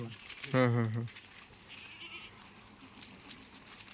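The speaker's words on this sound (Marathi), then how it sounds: "ही पहिलं रूपात लंबी लचकी उच्च मापाची शेळी तुम्हाला दिलेली आहे" A single goat bleats close by, a short wavering cry, then only quiet background noise remains.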